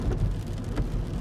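Steady rain pours at night near a bridge, a dense continuous hiss with a heavy low rumble and no pauses. No one speaks.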